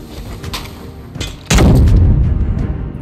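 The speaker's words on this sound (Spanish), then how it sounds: "Su sonido de disparo y efecto de baja me han gustado demasiado." Video game gunfire from a JACK 12 shotgun: a couple of lighter shots, then a loud, close blast with a booming tail that fills the rest of the moment.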